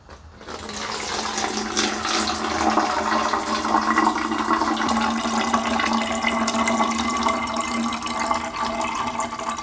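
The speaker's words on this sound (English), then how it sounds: "Now I'm just going to go ahead and pour it in our PET bottle along with the jam that's there." Dissolved sugar water is poured into a PET bottle holding strawberry jam for homemade hooch, a steady, loud liquid gush and splash that runs continuously for nearly ten seconds with no talking.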